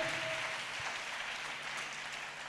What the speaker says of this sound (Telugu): చేతులు ఎత్తి గట్టిగా చప్పట్లు కొట్టు